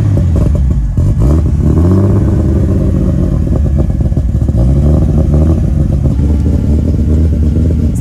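A turbo-swapped BMW E30's engine runs loud and close, with repeated rough revs that rise and fall over a deep rumble and clatter throughout.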